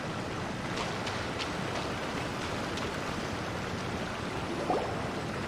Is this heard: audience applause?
no